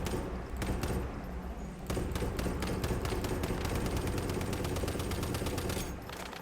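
Rapid automatic gunfire from a shooting video game, steady fast bursts of close, loud shots firing almost without pause, briefly dropping before resuming.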